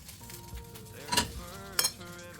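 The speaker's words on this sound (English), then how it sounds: "Fry the bread into the pan with melted butter till it browns on all sides nicely" Bread soaked in a milk mixture fries in a pan of melted butter with a soft, steady sizzle, punctuated by a couple of brief metallic clinks of a utensil against the pan.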